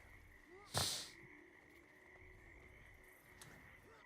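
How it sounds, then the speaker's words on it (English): Frogs croaking faintly in the background of a Guild Wars 2 game scene, with a steady tonal hum and one brief loud burst near the start. "you guys hear the frogs? There's lots of frog sounds over there."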